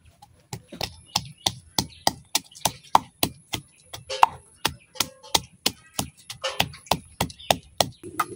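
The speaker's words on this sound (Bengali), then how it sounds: "এই যে আমার পেঁয়াজ রসুনটা কিন্তু ছেঁচা হয়ে গেছে" Onion and garlic pounded on a grinding stone, a steady run of sharp, evenly spaced thuds, about three per second, close and fairly crisp, with faint voices in the background.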